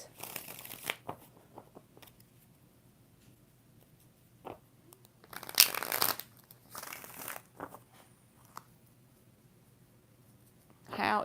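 Tarot cards are shuffled by hand in a few short, crisp bursts of riffling and rustling, close up, with quiet stretches between them.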